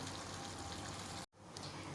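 A glass of water is poured into a pot of chicken aloo gosht curry, making a continuous rushing splash that cuts off abruptly, followed by a quieter sizzle.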